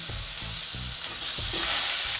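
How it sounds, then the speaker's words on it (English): Burgers cooking in a pan for loco moco give a steady close sizzle and crackle, with a few soft scraping knocks from handling over the top, and no talk. "Next, I'm gonna cook up these burgers now."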